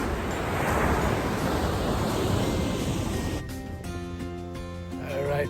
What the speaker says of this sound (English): I'll leave you with one more sight from the ocean.